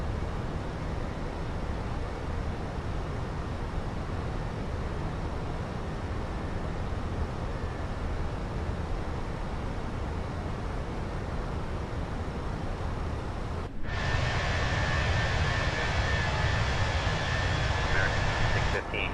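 Steady broadband roar of an American Airlines A319 airliner's engines during climb-out, heard from inside the cabin, constant and loud, rising abruptly in level near the end with a brief voice over it.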